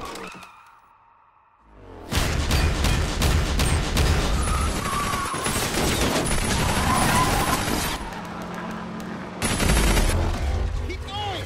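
An old gun fires a loud, sustained burst of rapid shots lasting several seconds, then pauses briefly before a further burst of gunfire.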